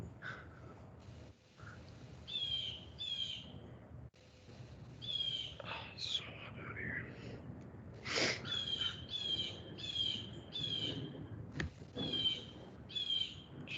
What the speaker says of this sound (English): Sorry about that, bird.